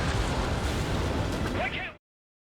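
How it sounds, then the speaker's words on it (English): A missile launches in the video game Ace Combat 7 as a loud, dense rushing roar that holds steady for about two seconds and then cuts off abruptly, with a voice faintly audible over it. "Launching missile."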